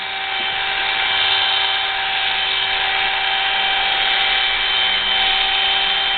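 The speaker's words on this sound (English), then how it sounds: "Notice how I'm just cutting the pieces of hair that are sticking out of the comb." Hair clippers fitted with a 1.5 blade trim hair over a comb in a salon, giving a steady close electric buzz with a fixed motor hum that runs unbroken and loud for the whole stretch, with no talk.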